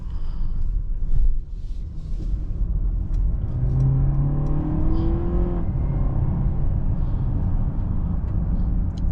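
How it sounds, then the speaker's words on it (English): A 2024 Mercedes GLE 450e 4MATIC plug-in hybrid SUV accelerating: a steady low rumble with a rising whirring drive tone that climbs for a couple of seconds and then settles back into road noise. "once the hybrid mode kicks in, it does pick up quite a bit"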